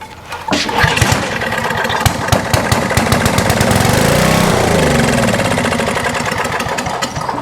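A small carbureted engine cranks with rapid, loud chugging pulses, catching briefly into a rough, sputtering run before fading, heard up close with no talk.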